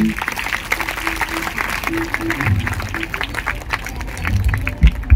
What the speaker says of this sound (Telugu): ఫాదర్ గారిని ముందుకు రమ్మని ఆహ్వానం పలుకుతున్నాము కరతాళాలతో, గట్టిగా చప్పట్లతో